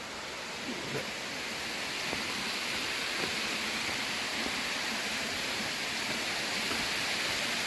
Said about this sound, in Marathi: आहे वावेचा धबधबा.